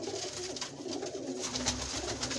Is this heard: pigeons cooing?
yes